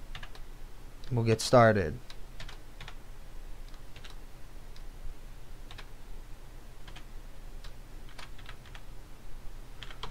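Keys clatter faintly as a password is typed on a computer keyboard, a scattered run of soft ticks that follows a brief spoken remark.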